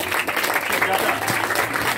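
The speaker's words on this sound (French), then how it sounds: "je vais vous demander d'applaudir très fort pour le président du jury" An audience at a ceremony applauds loudly for the president of the jury, a dense steady burst of clapping throughout.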